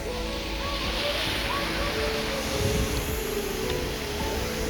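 Small waterfall in Talybont, Wales on a rainy day, a steady, close roar of flowing water with some wind buffeting the microphone, faint voices beneath the rush.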